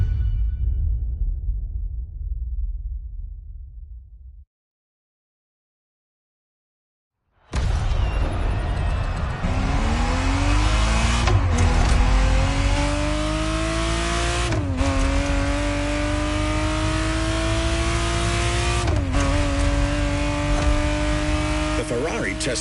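Ferrari Testarossa engine revving hard after a silent gap, rising and falling in pitch through several gear changes as the car drives off, loud and close, with earlier low rumble and talk before the silence.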